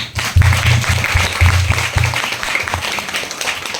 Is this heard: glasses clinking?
no